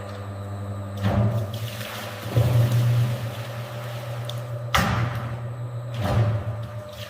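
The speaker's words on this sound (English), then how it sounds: "Freshly extracted wine flows into a clean storage tank." Freshly extracted wine pouring into a clean storage tank at an industrial winery, a steady liquid rush with a few louder surges and splashing bursts throughout.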